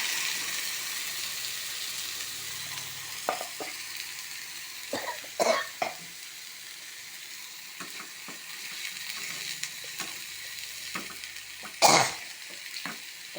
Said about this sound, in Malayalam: അരച്ച തേങ്ങ അതെല്ലാം കൂടെ ഒഴിച്ച് കൊടുക്കാം